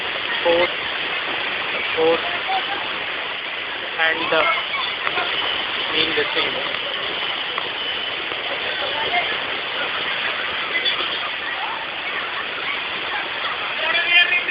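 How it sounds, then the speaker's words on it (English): Steady, dense rush of the Nemali Gundam waterfall at the Ranga Nayaka Swami temple fills the whole clip, with a voice briefly speaking over the constant roar. "I love to see nature, this water flow, and the sound made by this water."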